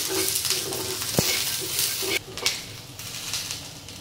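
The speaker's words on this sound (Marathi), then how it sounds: "कांद्याबरोबर आपले हे ओल्या खोबऱ्याचे काप पण चांगले भाजून होतील" Sliced onion and fresh coconut pieces roast and sizzle in a pan, with steady frying hiss, a sharp clink of a spoon against the pan and a brief dip and return of the sizzle as it is stirred.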